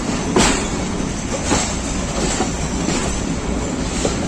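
Passenger train rolling along the down track at a Pakistani station, with steady rumbling and faint rhythmic wheel clacks every second or so, fairly close and continuous, no talking.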